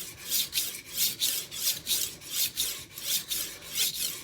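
A kitchen knife is drawn back and forth across a single whetstone, each stroke a bright rasping scrape in a steady rhythm of about two per second, close and clear with no voices.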